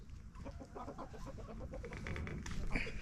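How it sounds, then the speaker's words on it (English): Chickens cluck in a quick, close series of short calls, growing slightly louder toward the end, with no talking over them. "Chickens. Boy, they're crazy."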